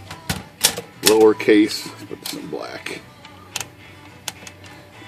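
Olympia SM-3 manual typewriter typing, crisp mechanical key strikes tapping in quick irregular bursts close to the microphone, while someone talks over and between the keystrokes.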